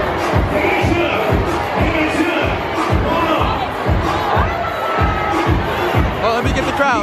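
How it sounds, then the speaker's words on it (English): A dense, roaring crowd at a Hampton University homecoming, cheering and shouting continuously at close range, with a steady pulsing beat of rhythmic stomps or drum hits underneath throughout. "Oh, let me get the crowd."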